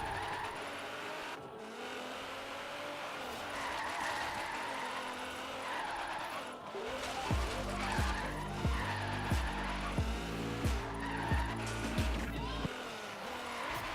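Car tires squeal and screech through a drift in the racing game Forza Horizon 3, with a loud engine roaring throughout and a steady pulsing beat joining in over the second half.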